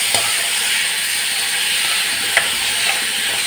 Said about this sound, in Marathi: परतून घेऊया एकत्र सगळं।